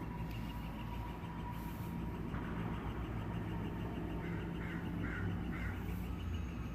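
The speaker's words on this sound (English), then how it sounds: "Maybe that bird can be the applause break." Bird calls, quacking like a duck, sound a few times at a moderate distance over a steady background rumble indoors at a daycare reading.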